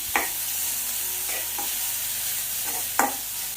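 Curry leaves, crushed garlic, ginger and green chilies fry in hot oil for a Kerala moru curry, a steady close sizzle broken by three or four sharp scrapes of a spoon stirring the pan, with no one talking.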